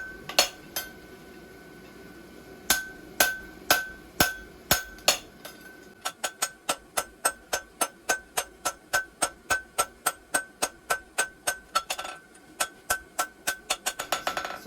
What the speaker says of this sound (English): that's why I'm hitting the hot side with my hammer